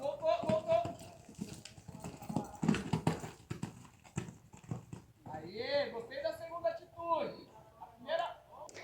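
A mare's hooves clip-clop on the ground during show jumping training, a rhythmic footfall pattern heard under a person talking through much of the stretch.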